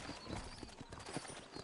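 Horse hooves clip-clopping steadily in Red Dead Redemption, a western video game set around New Ulster, with soft game ambience underneath and no talk.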